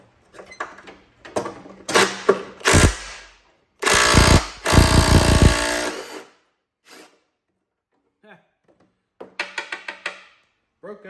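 An old Sears garden tractor's metal bar pounded on a workbench: scattered sharp metallic blows, then a dense loud burst of rapid hammering, followed by quieter sparse knocks and rattles after a pause.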